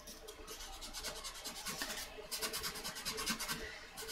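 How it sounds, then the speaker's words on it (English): Wood burning paper rubbed with 320 grit sandpaper gives close, rapid back-and-forth rasping strokes, a dry gritty scratching in quick bursts that grows louder toward the end, with no talking. "So if that works, can I use sandpaper?"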